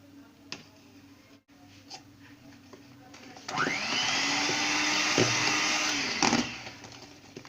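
An electric beater whirring through chocolate brownie batter with oil mixed in, the motor rising to a steady buzzing whine for about three seconds before cutting out, preceded by faint clicks and handling sounds.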